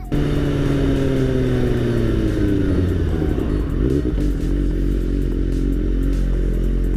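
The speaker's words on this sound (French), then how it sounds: "Bien évidemment on va chercher en moto, sinon ça serait pas drôle." A motorcycle being ridden, its engine droning loud and steady throughout with falling pitch as it slows, plus wind rumble and light clatter close to the rider.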